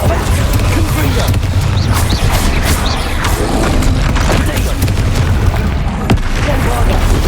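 In the Hogwarts Legacy video game, a Confringo spell sets off dense, booming blasts and crackling bursts one after another, loud and close, with game voices mixed in.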